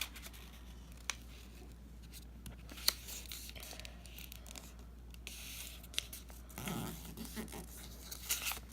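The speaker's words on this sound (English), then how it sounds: "You're going to fold it again." A young child folds a sheet of paper into an origami tulip, giving faint scattered crinkles, creases and soft rustles over a low steady background hum.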